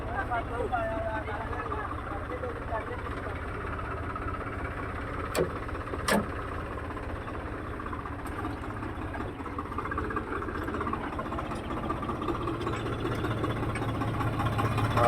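A tractor hauls a loaded trolley in a Punjabi field-pulling test featuring a Swaraj 855, John Deere 5310, Farmtrac 60 and Preet 6049. Its engine holds a steady, low, droning rumble for the whole stretch while people talk over it.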